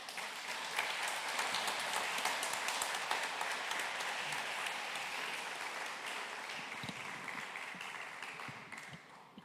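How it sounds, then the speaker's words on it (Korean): A church congregation at a Liberation Day joint worship service at Incheon First Presbyterian Church in South Korea applauds to welcome the mayor of Incheon, a long, close, evenly sustained round of clapping that tapers slightly near the end. "여러분 큰 박수로 환영해 주시면 고맙겠습니다"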